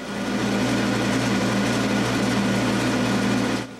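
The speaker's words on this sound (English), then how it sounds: "So he goes to his lathe and turns a new bottom shaft for my tool rest." A metal lathe turns a new bottom shaft for a lathe tool rest, giving a steady, loud motor hum with a low drone. It runs unbroken for almost four seconds, then stops abruptly.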